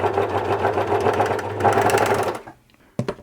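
A Bernette 610D serger runs fast through scrap fabric, its rapid even mechanical chatter steady and close for about two and a half seconds before stopping, followed by a couple of clicks.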